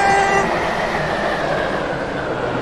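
A Class 730 train runs in the Roblox SCR rail game, a steady rumble and hum of wheels and motors with a faint tonal whine, continuous and close, with no speech.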